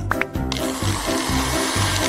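A kitchen blender whirs through smoothie ingredients, its motor loud and close with a pulsing, repeating churn after a brief start-up.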